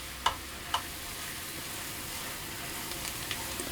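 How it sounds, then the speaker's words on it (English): Flour being stirred into softened onions for a chicken and vegetable pie filling gives a soft, quiet sizzle, with two light utensil taps near the start and faint scraping later. "So I'm going to pour in my flour, and I'm going to stir that around and cook it for about a minute"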